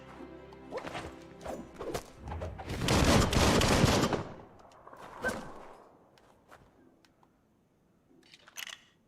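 Gunfire in Biomutant: a fast burst of rapid shots swelling into a loud sustained volley, then scattered single cracks, impacts and footsteps, with no voices.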